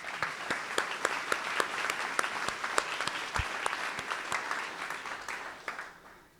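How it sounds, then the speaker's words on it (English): Audience applause at a State of the City address in Hiawatha, with distinct individual claps standing out over a broader wash, fading toward the end; no one speaks. "Another round of applause for Peg, please."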